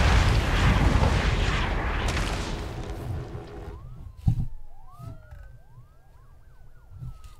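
Fire department sirens in the Sim City video game wail with rising and falling sweeps over a heavy rumble of disaster noise, which fades to leave the sirens clearer with a few thuds.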